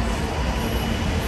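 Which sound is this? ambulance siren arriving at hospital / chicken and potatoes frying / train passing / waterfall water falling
train passing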